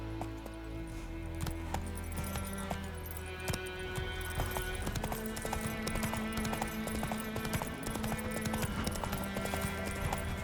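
Horse hooves clip-clop steadily as a horse is ridden in The Witcher 3 open-world game, a brisk regular gait set against continuous game music and ambience.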